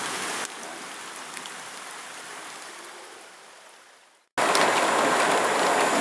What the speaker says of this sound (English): You can hear the fucking rain now.